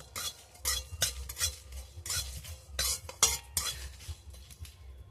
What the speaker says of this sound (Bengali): শুকনো খোলায় নেড়ে চেড়ে আমি মশলাটাকে ভেজে নেব।